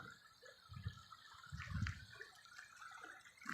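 River water flows steadily near a village in winter, a soft continuous gurgle and trickle with low splashing swells, heard alone without voices.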